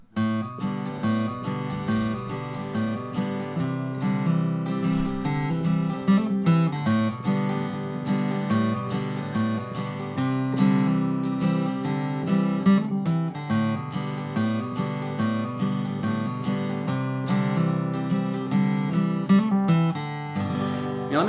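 Acoustic guitar plays the intro riff of a song, a steady, close, fingerpicked line with hammer-ons and pull-offs ringing out continuously without any talking.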